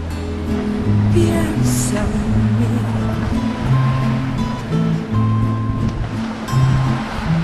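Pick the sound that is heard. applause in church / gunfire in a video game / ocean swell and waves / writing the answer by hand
ocean swell and waves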